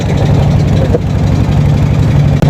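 The engine of a hilsa fishing trawler runs loud and close, a steady low, throbbing drone that continues without a break.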